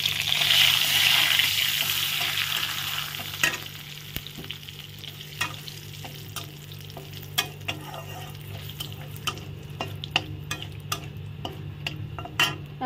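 Whole cumin, dried chillies, cardamom, cinnamon and bay leaves hit hot oil for a banana-flower dish, a loud hissing sizzle at first that settles into close, steady crackling and popping.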